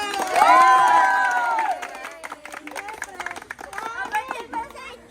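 Supporters at a surprise birthday party in Tanza, Cavite break into applause: a loud voiced shout opens, then a few seconds of steady, scattered clapping and crowd noise.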